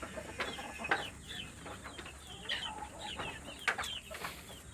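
A flock of chickens and chicks clucks and peeps at feeding time. The calls come in scattered, overlapping bursts at moderate distance over faint background noise, with no talking.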